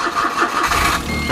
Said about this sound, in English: so I'm going to start the car, make sure that everything works